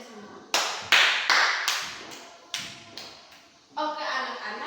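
A classroom of schoolchildren claps together in a patterned rhythm: sharp group claps in separate bursts with short gaps, ending with a longer, denser round of clapping.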